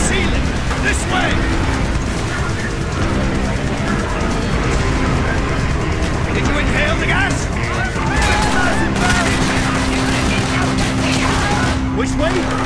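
Dense bursts of gunfire and explosions from the video game Call of Duty: Black Ops crackle continuously under shouted voices, loud and chaotic throughout.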